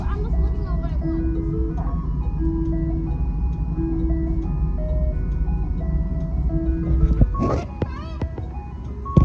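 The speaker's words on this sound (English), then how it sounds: "Chased the ice cream truck for the last 15 minutes." An ice cream truck's chiming jingle plays repeatedly over a steady low road-vehicle rumble, with voices talking intermittently and a louder burst of noise near the end.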